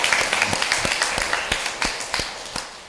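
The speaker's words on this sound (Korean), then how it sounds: "우리 하나님께 감사하다고 박수를 한번 영광 올려드릴까요?" A church congregation claps together, with distinct hand claps falling at a steady rhythm against a bright, hissy background of broader applause that goes on throughout.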